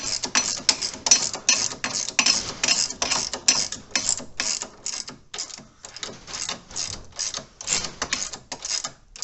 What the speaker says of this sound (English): So we jack that up to align it